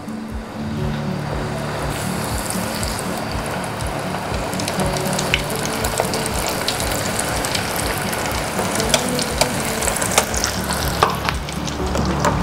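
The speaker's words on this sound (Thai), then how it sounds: "ตอนนี้น้ำมันก็เดือดแล้วนะคะ เราเอาปลาหมึกที่ หมักชุบแป้งไว้เมื่อตะกี้ก็ลงกระทะได้เลย" Battered squid sizzles and crackles steadily in hot oil, a loud continuous frying hiss with scattered pops.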